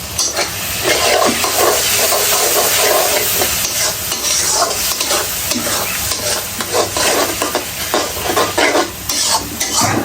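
Ginger paste sizzles and fries as it is stirred into a large pot of beef curry, a loud continuous hiss with spoon scraping against the pan throughout.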